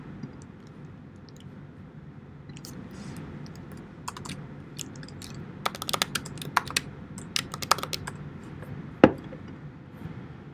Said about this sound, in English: Slow typing.